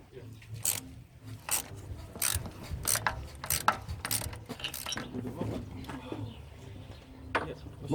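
A ratchet undoes bolts on a Ford Falcon XR6 during a power steering pump replacement, giving close, bursty runs of metallic clicks with pauses between strokes over soft background noise.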